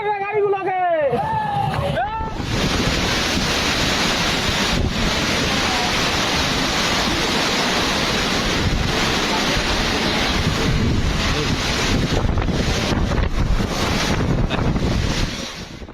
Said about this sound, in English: Typhoon Fenghuang sent enormous waves crashing into the Philippines, rising above nearby homes